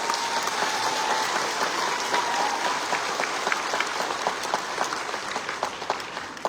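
Dense, continuous clapping from a crowd of hands, loud and close, with sharp individual claps standing out toward the end.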